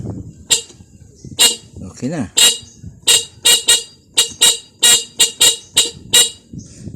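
A car horn toots in a rapid string of a dozen or so short blasts, uneven in rhythm, with a brief voice speaking.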